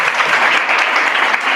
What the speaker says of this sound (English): I think they deserve a better round of applause